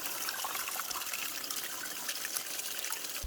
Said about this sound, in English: The pipe with the water coming out is down in the ravine there